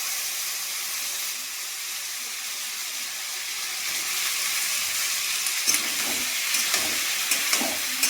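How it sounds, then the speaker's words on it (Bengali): Cauliflower florets fry lightly in oil in a pan for a spicy cauliflower, potato and soya chunk curry. A steady, moderate sizzle holds for several seconds, then spoon clatters and stirring rustles break in near the end, with no talk. "ফুলকপি গুলো হালকা করে একটু ভেজে নেবো।"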